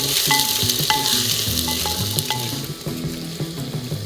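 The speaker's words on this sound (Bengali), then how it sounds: "দেবো কাঁচা লঙ্কা চিরা রেখেছিলাম, দিলাম, ভালো করে ফ্রাই করে নেব" Green chillies fry in a pan with a loud, steady sizzle, crackling throughout, while a utensil clinks and scrapes against the pan in short, irregular strokes.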